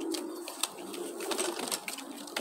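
Racing pigeons of the Van der Wouwer and Gaston De Kaasboer lines coo softly in a loft, low murmuring calls continuing steadily with a few sharp flutters or clicks scattered throughout.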